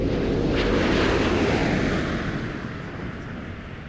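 Space Shuttle Atlantis comes down to the runway at about 320 miles per hour, a loud, broad roaring rush of air that holds strong and then gradually fades and thins out.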